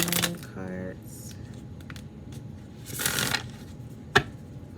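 Oracle cards shuffled by hand in a quiet room, a burst of riffling near the start and another soft flurry later, ending in a sharp tap, with a voice speaking lightly underneath.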